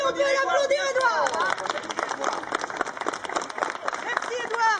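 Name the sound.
audience applauding a boy named Édouard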